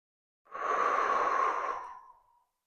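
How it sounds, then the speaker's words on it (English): A single long, audible exhale during an upper-body arm stretch, a breathy sigh rising quickly, holding for over a second and then fading out in a quiet room. "And we're just going to take a couple breaths here."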